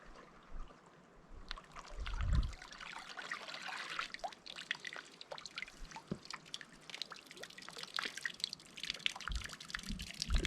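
Water leaks and drips from a duct-tape-patched improvised boat, a scatter of faint, irregular drips and trickles at close range over quiet background, with a louder splash or knock near the start.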